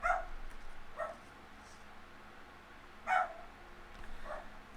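A female dog barks in the background, four separate barks spaced about a second or more apart, moderately distant and alone.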